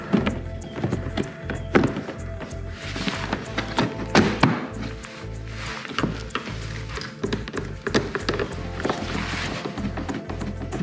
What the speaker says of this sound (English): We're gonna go ahead and reinstall this cover.